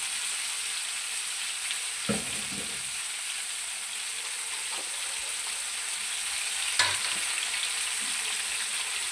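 Soft chicken tikka pieces sizzle steadily on a hot tawa, a continuous close frying hiss broken by two or three clear clatters as pieces are moved or turned.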